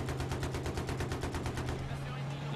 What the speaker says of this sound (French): Y'a un mec là, Armat, qui tire dessus.